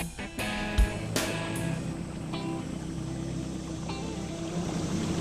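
A boat cruises through a bayou oxbow on a gator hunt, giving a steady low engine drone with water wash, a few sharp knocks early on, and no talking.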